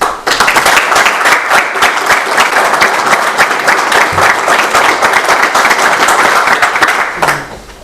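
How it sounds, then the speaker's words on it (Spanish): Loud, continuous applause from a large audience at a lecture welcoming a guest speaker, dense clapping sustained for several seconds before tapering off at the end. "lo recibimos con un fuerte aplauso"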